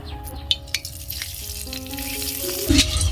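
Fennel seeds sizzle in hot mustard oil with a soft hiss that swells toward the end, broken by a few sharp utensil clicks and faint tonal ringing, heard up close.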